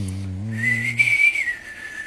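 Someone whistles a short melodic phrase, a clear high tone that wavers and slides, heard alone over a low hum that fades out.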